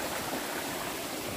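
Steady broadband rush of flowing water at Bolinao Falls in Pangasinan, a constant close wash with no breaks and no voices.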